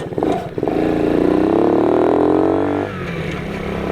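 A motorcycle engine drones loudly and steadily, then abruptly drops off and sputters at low, uneven revs as it stalls.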